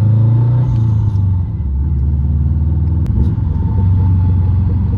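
Big-turbo Subaru WRX heard from inside, its engine pulling hard in a loud, sustained low rumble that rises, dips briefly at a shift, then climbs again.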